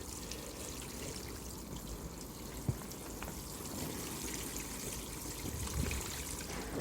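A steady, close wash of water trickles and pours from a watering can onto potato plants in pots under cover, a continuous hiss with a single small knock partway through.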